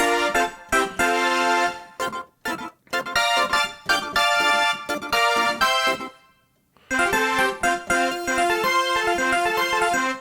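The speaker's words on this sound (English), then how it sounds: "That way you get the texture of brass without maybe the articulation or it sticking out so much" A MainStage 3 brass synthesizer keyboard patch plays chords in short, punchy stabs and sustained swells, with brief gaps between phrases.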